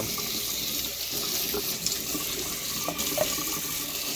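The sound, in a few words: hot tap water running over pasta in sink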